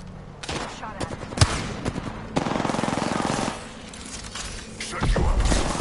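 Rapid bursts of automatic gunfire in a shooter video game, with sharp individual shots and sustained rattling volleys, loud and close, followed by another heavy burst near the end, with a voice talking over the action.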